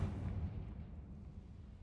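A Confringo fire spell from the Hogwarts Legacy game detonates in a large underground room, a heavy low boom that rolls and slowly decays into a rumbling tail over about two seconds, with no voices.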